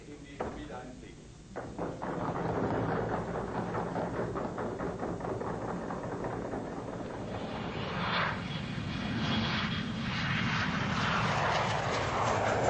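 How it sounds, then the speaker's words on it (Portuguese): A research jet from the German aerospace research establishment, fitted with instruments for measuring cirrus clouds, gives off a steady, loud engine roar that runs the whole time, with narration over it. "eles têm um jato do estabelecimento de pesquisa aérea alemão, equipado com instrumentos para medir as propriedades dos cirros"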